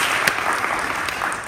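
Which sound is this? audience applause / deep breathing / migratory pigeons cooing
audience applause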